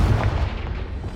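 Confringo fire spell explosion from the Hogwarts Legacy video game on PS5, a loud booming burst with heavy low rumble that sustains and decays over about a second, with no speech.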